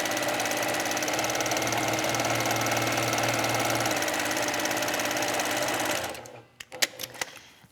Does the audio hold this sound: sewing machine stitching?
yes